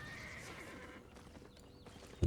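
A horse in the game Albion Online whinnies with a rising-falling call over the clip-clop of hooves, followed by a sudden loud thump at the end.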